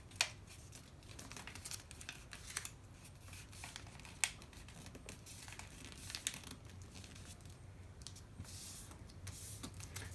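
A sheet of paper is creased and folded by hand into a paper airplane, giving soft, close crinkling and sliding rustles with small crisp snaps, quiet and continuous with no talking.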